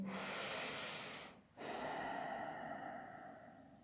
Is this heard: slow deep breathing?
yes